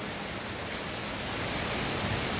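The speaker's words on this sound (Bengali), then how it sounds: "কীরকম বৃষ্টিটা হচ্ছে খুব জোরে বৃষ্টি হচ্ছে" Heavy monsoon rain pouring down, a dense even hiss of falling water that swells slightly toward the end, with no voices.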